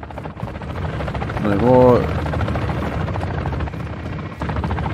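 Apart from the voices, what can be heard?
helicopter in Warzone MW3 video game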